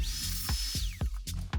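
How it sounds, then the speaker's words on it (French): Power drill boring directly into concrete, a high motor whine broken by short bursts and several sharp stops and restarts across a brief, close take. "le but, c'est de percer directement le béton"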